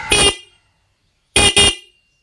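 A car's stock horn honks three times: one short blast, a pause of about a second, then two quick blasts back to back, loud and close.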